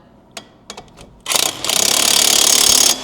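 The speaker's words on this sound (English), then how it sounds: "I have to hold the bolt and get the impact on it" Impact wrench hammering on a suspension bolt of a Corolla FX16 race car, a few sharp clanks first, then a loud, close, rapid buzzing rattle lasting about two seconds before stopping.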